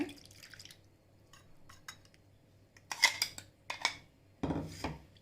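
Water pours from a blender jar and splashes in short bursts, mixed with clinks and knocks of the jar and utensils close by, with quiet gaps between, while making chutney.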